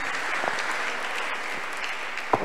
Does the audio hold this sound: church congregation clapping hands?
yes